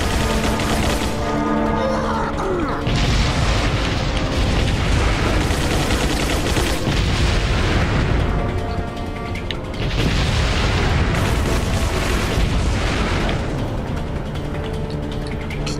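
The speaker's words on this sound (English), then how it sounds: "It's a rocket kind of launcher." Heavy booms and mechanical clanks of a rocket launcher firing and reloading in Resident Evil 4, set aboard a ship, arrive in two loud bursts separated by a brief lull.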